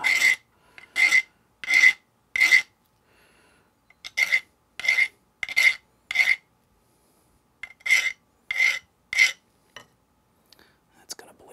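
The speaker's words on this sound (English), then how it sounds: "I'm gonna use a file on it next" A hand file scrapes sharp edges off a shower faucet part in rhythmic back-and-forth strokes, about fifteen close, raspy passes in groups of three to four, with brief pauses between groups.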